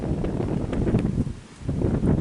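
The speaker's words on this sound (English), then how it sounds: "And there's the wind." Wind gusting outdoors around a 2001 Dodge Ram pickup buffets the microphone in a continuous loud, low rumble that rises and dips over a couple of seconds.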